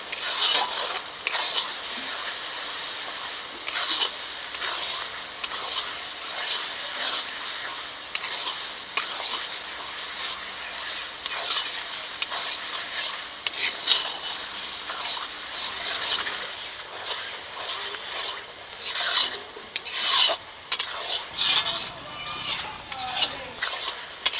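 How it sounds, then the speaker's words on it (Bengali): Turmeric spice paste for a turkey curry stirred and fried in a pan, a steady close sizzle with scraping spatula strokes throughout, growing a little louder and choppier near the end. "মশলাটাকে খুব সুন্দর করে ভালো করে কষে নিচ্ছি"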